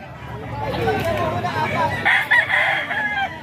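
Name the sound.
fighting rooster crowing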